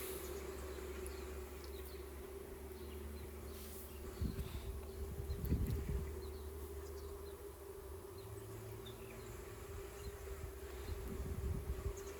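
Honey bees buzz steadily around a backyard hive that is light on numbers, a continuous drone with a few louder swells as individual bees pass close by.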